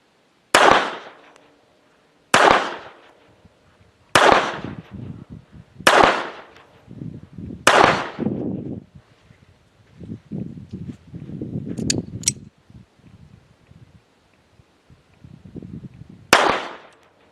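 Six sharp .22 pistol shots from a Jimenez JA-22 firing Golden Bullet ammunition at a range, loud and close, with a slow irregular rhythm and a long gap before the last shot, plus faint handling noises in between.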